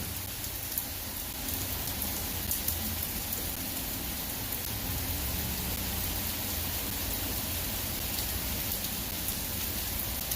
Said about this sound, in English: No deep puddles yet, but it's starting to rain.